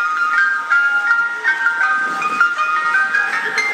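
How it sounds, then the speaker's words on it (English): Ice cream truck jingle, a bright, loud chiming melody that plays continuously with repeating tinkling notes and nothing else heard. "I got a real ice cream sound effect here"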